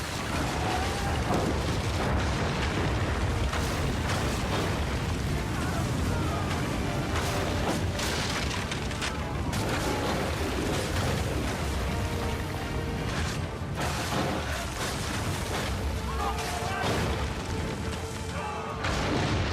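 Cannon fire in Assassin's Creed 3 booms again and again through a dense, chaotic battle din, with heavy blasts, crashes and rumble running without pause.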